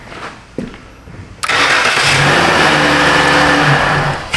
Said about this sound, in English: now the car should start and act normal.